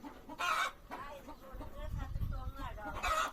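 Chickens cluck and squawk close by in short repeated bursts, with a person murmuring in the background.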